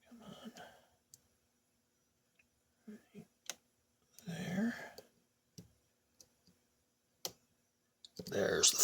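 A lock pick works the pins of a Yale Superior dimple lock, making sparse, faint, close clicks and ticks in a quiet room, with occasional soft murmured speech between them.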